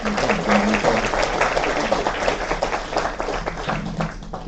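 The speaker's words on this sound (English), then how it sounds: "let's give him a big round of applause." Audience at a university conference applauds a speaker after his talk, lively close clapping from a moderate-sized room that starts strong and gradually thins out, with a faint voice murmuring underneath.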